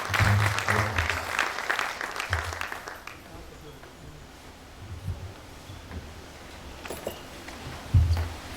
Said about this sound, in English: please give a round of applause for Mr. Abayomi Adeyinka